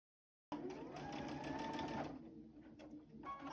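Sewing machine stitching sashing strips onto a quilt, running steadily for about two seconds and then slowing into softer, intermittent stitching, fairly quiet and close.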